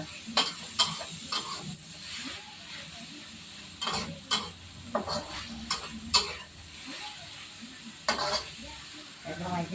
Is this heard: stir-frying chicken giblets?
yes